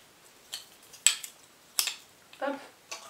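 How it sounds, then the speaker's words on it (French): Small ice cream spoons are picked up and set down, making a few light, separate clicks and clinks with brief pauses between them, close and fairly quiet. "il y a les cuillères qui vont avec"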